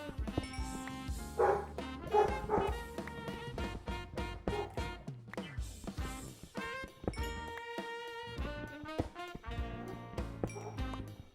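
Dog barking in Minecraft, short bow-wow barks and yips over a busy musical game soundtrack, fairly quiet.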